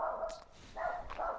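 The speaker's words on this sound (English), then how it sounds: "vicious dog." A dog barks three times in quick succession, loud and close, with short pauses between the barks and no voices.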